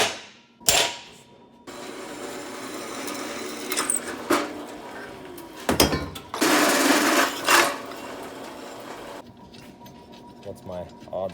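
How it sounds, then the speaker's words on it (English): Metal being center punched and drilled during a junk-salvage build: sharp percussive punch strikes ring out, then a steady buzzing drill run with several louder bursts, near and fairly loud. "now I'm gonna center punch these and drill some holes"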